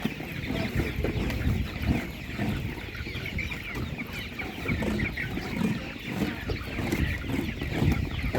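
Many chickens cluck continuously nearby, a busy overlapping chorus of short clucks that keeps going with no talking.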